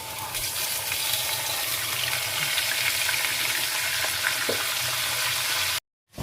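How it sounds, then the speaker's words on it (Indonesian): Fish fries in hot oil with a little wheat flour mixed in, giving a dense, steady crackling sizzle up close for several seconds before it cuts off abruptly. "Ikannya kita goreng ya."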